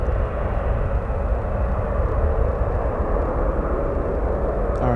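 Roar of a China Airlines Boeing 777 landing at San Francisco airport, a steady broadband rumble that holds at a constant loud level throughout, with no voices heard.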